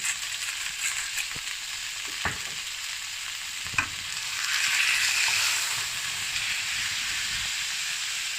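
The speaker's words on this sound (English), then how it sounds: "now we're gonna brown our meat and salt and smoked black pepper" Ground meat browns in a pot for spicy chili, a steady hissing sizzle with a few spoon scrapes and a stronger burst of frying midway.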